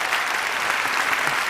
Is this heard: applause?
yes